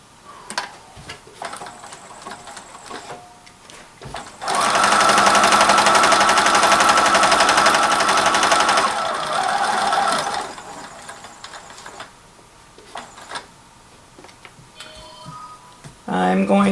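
A sewing machine stitches sections of a weighted blanket in one sustained whirring run of several seconds, loud and near, with brief ticks and handling sounds before and after.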